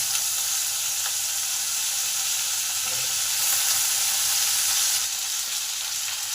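Papaya pieces frying in hot oil make a loud, dense, continuous sizzle and hiss close up, steady throughout, with faint stirring scrapes underneath.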